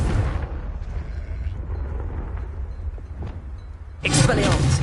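A Confringo spell blast in Hogwarts Legacy: a loud rumbling burst at the start, a stretch of rough, crackling blast noise, then a second strong eruption near the end.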